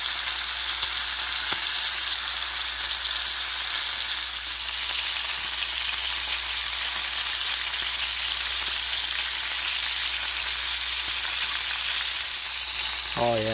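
Bacon-wrapped snipe frying in a pan, a steady, dense sizzle and crackle that holds close and loud without letup, with a faint clink near the end.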